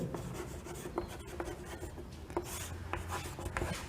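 Chalk or marker scratching out math notation on a classroom board during a Class-12 relations and functions lesson, a steady rubbing rasp with short tapping strokes, fairly close and without talk.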